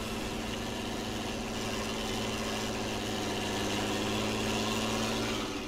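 Idling tractor engine in Farming Simulator 19, a steady low rumble with a constant hum, close and continuous for the whole stretch, with no voices over it.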